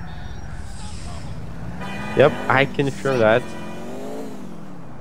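Fast car in GTA IV during a police pursuit, engine humming then surging in several sharp revving bursts, close and loud, with someone speaking over it.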